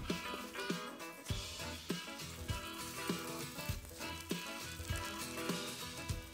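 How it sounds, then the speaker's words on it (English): Rack of lamb searing over a hot grill, a steady broadband sizzle with occasional soft knocks and pops running throughout at moderate level. "We're gonna sear both sides real quick"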